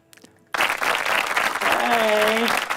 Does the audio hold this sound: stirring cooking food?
no